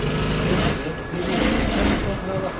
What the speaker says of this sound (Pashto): خوست ښار کې هغه مارکیټونه چې زیاتره پکې خیاطان کار کوي د ماشینونو شور یې جوتوي چې دلته کاري بوختیا زیاته ده